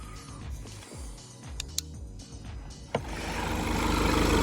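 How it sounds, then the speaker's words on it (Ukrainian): A 2014 Volkswagen Golf TDI diesel engine runs hot at idle under an open bonnet, a steady low mechanical rumble with a few sharp clicks, rising toward a fuller, louder roar near the end. "Так, ось так працює двигун."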